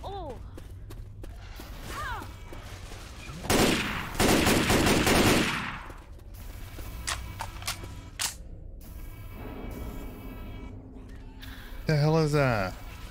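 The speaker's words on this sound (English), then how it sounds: "I think you were shooting through the floor" Gunfire in Left 4 Dead 2 comes as a loud burst of rapid shots, then scattered sharp single cracks, with voices talking in between.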